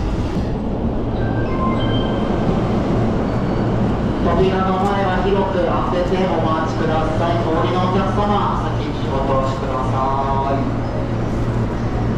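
A JR train pulls into the platform at Shinjuku station during the morning rush. It gives a continuous loud low rumble and steady rail noise, while a voice announcement plays over it.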